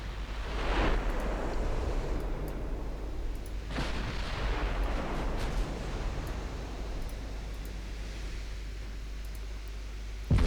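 Heavy naval gunfire from battleships firing high-explosive shells in Ultimate Admiral: Dreadnoughts, two deep booming blasts a few seconds apart, each rolling out over a constant roar of sea and wind.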